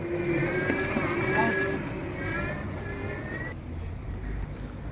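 Go-kart style racing cars at Ullash amusement park run steadily with a buzzing engine drone that fades and shifts, while people talk and shout over it.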